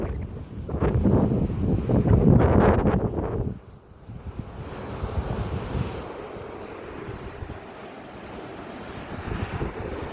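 Large ocean waves roll onto a fine-sand beach good for swimming, a loud roaring surge building and breaking, then a steadier wash of surf mixed with heavy wind buffeting the microphone.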